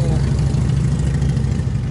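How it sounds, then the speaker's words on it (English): Low, steady rumble of motorcycle engines idling nearby, loud and unbroken through the brief moment. "had to pardon the noise of the motorcycles here"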